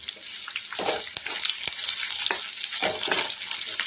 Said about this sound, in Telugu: ఉల్లిపాయలు వేసుకుందాం ఇది బాగా కలుపుకుందాం ఫ్రెండ్స్